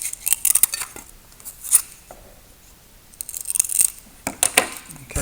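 Styrofoam being cut with scissors to shape a rocket fin: a few close, crisp snipping and crunching bursts separated by short quiet gaps.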